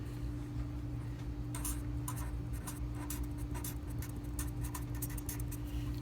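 A pencil scratching across paper in short strokes and taps during algebra writing, moderately quiet over a steady low electrical hum.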